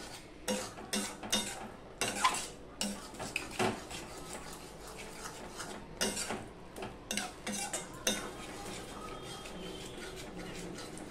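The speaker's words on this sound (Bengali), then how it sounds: "এবার গ্যাসের ফ্লেমটা আমি লো টু মিডিয়ামে দিয়ে কষাতে থাকছি।" Soybean paneer curry is stirred in a pan over a low to medium flame, with repeated close clinks and scrapes of a spoon against metal above a quiet simmer.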